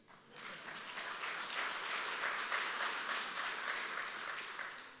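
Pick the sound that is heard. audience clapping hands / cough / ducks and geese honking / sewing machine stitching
audience clapping hands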